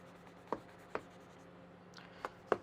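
A very sharp knife cutting through a spinach filo pie, five faint crisp crunches spaced irregularly over a quiet kitchen background.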